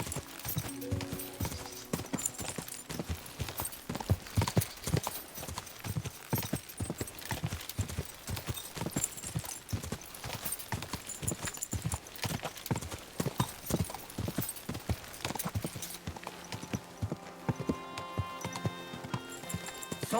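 Horse hooves gallop in a steady, driving clip-clop rhythm in the medieval video game Kingdom Come: Deliverance II, continuous and fairly close, with no speech over them.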